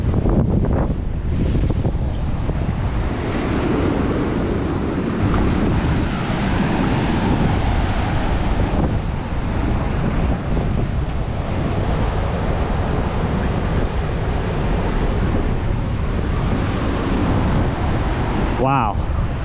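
Surf and strong wind at Tamarama Beach, Australia, below sandstone cliffs, a loud continuous roar of breaking waves and wind buffeting the microphone throughout.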